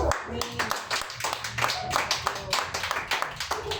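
A church congregation clapping during a sermon, with uneven rhythmic hand claps mixed with voices and background sound throughout the short stretch.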